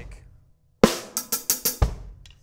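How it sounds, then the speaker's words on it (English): A drum kit plays a short linear pattern after a brief pause: a sharp snare hit, a quick run of right and left hand strokes, then a kick drum thump. All five hits are crisp and close. "So you get snare, right, left, kick."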